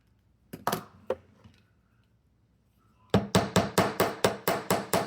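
A hammer flattens wire for wire-wrap earrings: three sharp taps, a pause, then about eight quick, evenly spaced strikes, close and crisp in a quiet room.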